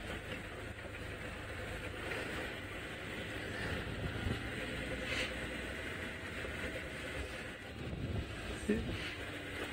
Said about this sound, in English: Let me just switch off my engine and try to listen to the bush.